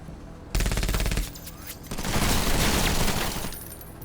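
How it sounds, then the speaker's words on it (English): Automatic gunfire rattles in the video game Menace: one loud rapid burst, a short lull, then a longer, denser stretch of shots and impacts that fades out at the end. "That returning fire is rough."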